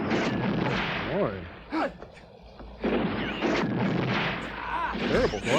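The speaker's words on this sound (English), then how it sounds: "Oh, they're only shooting flares." Gunfire from a film scene, flares being shot, heard as sharp repeated cracks and booms in bursts, with people talking over them.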